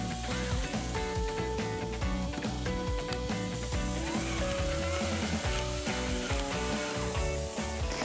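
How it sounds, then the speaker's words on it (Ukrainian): Pork fat (salo) melting and sizzling with black pepper in a pan while preparing banosh with bryndza and cracklings; a steady, close frying hiss runs throughout under tonal background music. "Мені подобається, як плавиться сало, і водночас воно змішується з чорним перцем"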